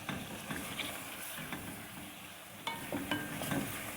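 Chicken stir-fried in a karahi with ginger and garlic, a steady close sizzle and frying hiss broken by stirring scrapes and clinks, with louder utensil knocks toward the end.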